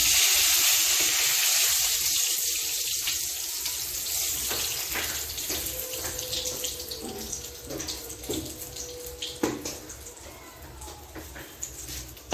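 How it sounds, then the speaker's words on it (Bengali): A steady, hissing sizzle of bay leaf and a dry chili frying in hot oil used for frying paneer, loud at first and gradually settling, with a few light clinks toward the end. "এই পনির ভাজা তেলের মধ্যেই আমি এখানে তেজপাতা আর একটা শুকনো লঙ্কা ফোড়ন দিয়ে দিচ্ছি"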